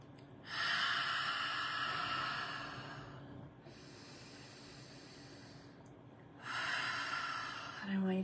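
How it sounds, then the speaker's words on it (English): Two deep breaths during a guided womb-space breathing practice, each drawn in through the nose and let out through the mouth, long airy rushes close to the microphone with a quieter pause between them. "a breath in through the nose, down into the energetic womb space, and out through the mouth"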